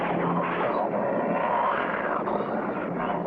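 Crop duster airplane flying overhead in a cartoon, a continuous loud droning engine hum that swells slightly and holds steady, with no talking.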